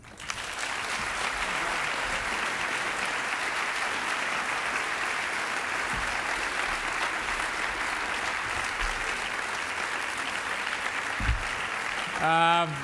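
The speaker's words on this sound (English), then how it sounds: "How about a nice round of applause for all of the 2012 New York City Literary Honorees?" A large audience claps steadily at the 2012 New York City Literary Honors awards ceremony, the broad sustained applause holding for about twelve seconds before it fades into brief noise at the end.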